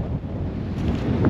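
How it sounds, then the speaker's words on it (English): Strong wind buffets the microphone beside a jetty where someone is sea fishing, a loud, low rumbling roar that swells slightly toward the end with no voices. "It is really, really windy."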